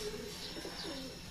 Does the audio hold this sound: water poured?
no